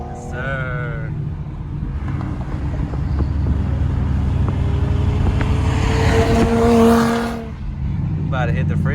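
Ford Mustang GT weaving through traffic alongside Infiniti Q50 and G35 cars: loud engine rumble and road roar that builds and revs higher mid-clip before easing, with people talking over it inside the car.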